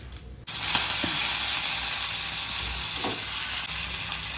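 Garlic, chillies, cumin, mustard seeds, dals and curry leaves hit hot oil for a panagantaku stir-fry, bursting into a sudden loud, steady sizzle with a few faint clinks, and no talk.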